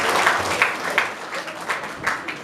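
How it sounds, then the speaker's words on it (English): An audience applauds at an annual award ceremony, a continuous round of many hands clapping with small swells, steady and fairly close. "So I think he needs a loud round of applause."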